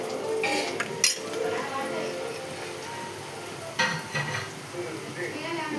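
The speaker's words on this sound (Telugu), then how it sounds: "గోల్డ్ కలర్ వచ్చేదాకా వేయించుకోవాలి." Cold cooked rice is stirred and fried in a pan with a tempering of ginger, turmeric and masala, giving a soft steady sizzle with scraping and clinks of a utensil against the pan, some louder knocks, and faint talk in the background.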